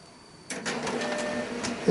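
A Samsung CLP-680ND color laser printer powers on and starts initializing, its steady motor whir and faint mechanical rattles rising after a quiet start and continuing at moderate level, with a small tone near the end.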